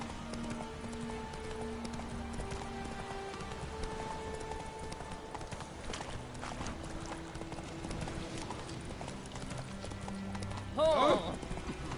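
Hooves of Geralt's horse Roach clip-clop at a gallop in The Witcher 3, a steady rhythm close by under a game music bed, ending with a brief loud burst near the close.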